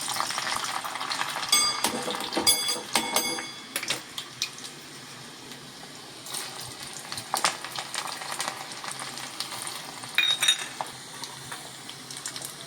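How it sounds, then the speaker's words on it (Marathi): Halved garlic cloves sizzle in hot oil for a tempering of a Konkan-style colocasia leaf dish, a close, crackling fry with intermittent stirring clinks and spoon scrapes, without any talk. "पहिल्या लसणीच्या बिया घालूया आधी तेलात."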